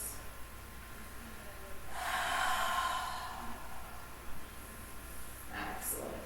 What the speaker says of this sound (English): Let's take a couple of breaths.